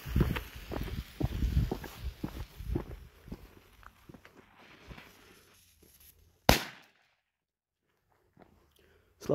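Small firecracker (petarda) goes off with a single sharp, loud bang after several seconds of rustling and handling noise, then near silence follows.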